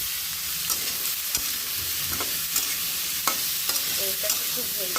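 Vegetables with ginger-garlic paste stir-frying in a pan alongside spices being cooked down for liver, a steady close sizzle broken by occasional spatula scrapes and taps, with no talking.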